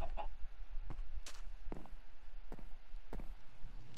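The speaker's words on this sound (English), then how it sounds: "I hear the chicken, but I don't see it." A Minecraft chicken clucks several times in short, separate bursts at a moderate distance. The clucks are spaced irregularly against a low background hum, and no one speaks.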